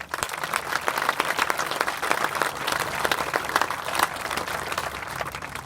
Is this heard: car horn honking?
no